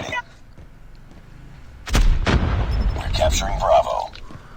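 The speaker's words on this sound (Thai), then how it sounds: "ตายเลยโดนเฟเนต" A grenade blast in the mobile shooter Call of Duty Mobile: a sudden loud boom with a second crack right after, then a rumbling tail of gunfire-like noise, with a voice talking over the game.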